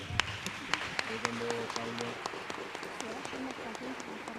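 Scattered clapping rises from a lecture audience applauding Professor Judith Butler, with voices talking over it.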